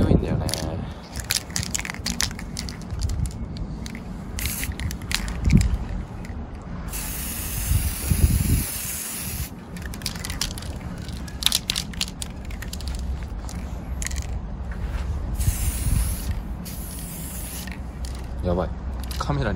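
Urethane clear coat sprayed from an aerosol can onto a worn carbon fiber part outdoors on a windy day, broadband hissing bursts in several passes with wind noise throughout.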